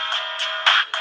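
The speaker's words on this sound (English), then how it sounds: "Then you fucking get that fucking ringtone." A video game phone ringtone plays nearby, a bright electronic chirping tone pulsing in short repeated bursts with no talk over it.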